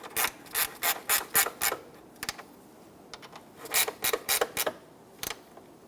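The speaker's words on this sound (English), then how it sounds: "Go ahead and snug down the 4 bolts across the top." Short bursts of rapid clicking from a ratchet snug down the bolts of a radiator cooling fan assembly on a 1992-1996 Toyota Camry 2.2L four-cylinder, close and crisp, coming in two clusters separated by brief pauses.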